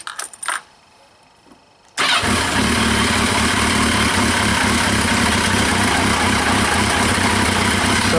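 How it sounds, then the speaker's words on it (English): A Yamaha XJ650 Turbo motorcycle engine: after about two seconds of near quiet with a few small clicks, it catches abruptly and settles into a loud, steady, close idle. "Let me just start the engine."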